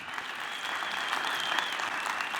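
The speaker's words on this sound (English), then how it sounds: "Let's give our young people a round of applause" Audience applause at the Black Voices Symposium as young people return to the stage, a steady, fairly soft wash of many hands clapping throughout, slightly distant.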